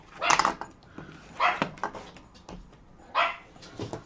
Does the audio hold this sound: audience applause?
no